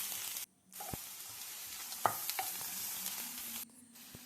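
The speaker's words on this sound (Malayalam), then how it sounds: "സവാള, പച്ചമുളക്, അഗസ്ത്യപ്പൂവ് എന്നിവ ചേർത്ത് നന്നായി വഴറ്റിയെടുക്കുക" Sliced onion, green chilli and agathi flowers sautéing in a pan, a steady close sizzle broken by short pauses and a few clinks of a spoon stirring.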